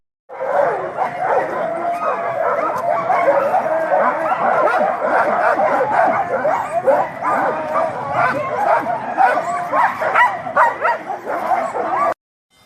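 Several sled dogs bark, yip and whine continuously and excitedly close by in Banff National Park, a dense overlapping chorus that barely pauses.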